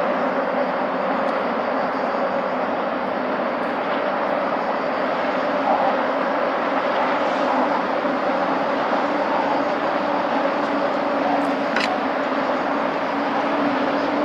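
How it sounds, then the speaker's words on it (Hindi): A train rumbles across the lower deck of a bridge in Lisbon, a steady, loud, broad roar that holds unchanged for the whole stretch, with no voices. "अभी वो देखें एक ट्रेन आ रही है"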